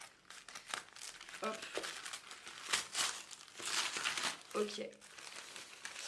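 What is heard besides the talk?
unwrapping the packaging of a card deck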